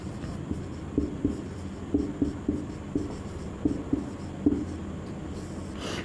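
Chalk or marker scratching across a classroom board in short repeated strokes, close and fairly quiet, with brief pauses between marks and no talk.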